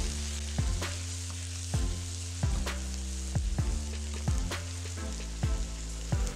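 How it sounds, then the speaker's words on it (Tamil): Radish sautéed with tamarind and coriander leaves in a pan, giving a steady close sizzle and frying hiss broken by repeated scrapes and stirs of a spoon against the pan, with no talk. "இப்போ இதில் 1 சின்ன துண்டு அளவுக்கு புளி, கொஞ்சமாக கொத்தமல்லி இலையும் சேர்த்து நல்லா வதக்கிக்கலாம்."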